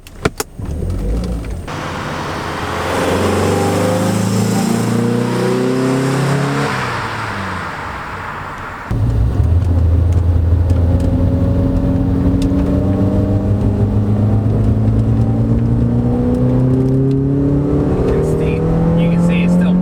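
A 1987 Mercedes-Benz 190E 2.3-16 accelerates onto a highway, its engine rising through repeated gear pulls with climbing revs, heard from inside the cabin with steady road and wind noise.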